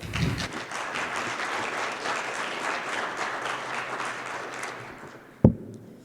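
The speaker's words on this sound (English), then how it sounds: "Let's give Amani a round of applause" Conference audience at IEEE Vis 2022 applauding a presenter, a full, steady round of clapping that holds evenly, then cuts off with a single sharp knock near the end.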